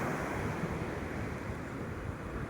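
Steady surf washing onto Peunaga Pasi beach in the afternoon, a continuous broadband roar of waves with wind noise buffeting the microphone and no voices.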